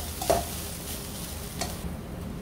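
Cooked rice stirred into a coconut mixture in a pan off the heat, a short soft scrape and a couple of muffled knocks over a low, faint sizzle.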